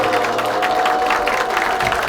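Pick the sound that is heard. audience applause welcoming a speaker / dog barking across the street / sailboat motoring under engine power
audience applause welcoming a speaker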